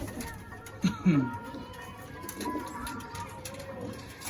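Pet pigeons coo nearby in a couple of low, throaty bursts, with soft human talk and background noise around them.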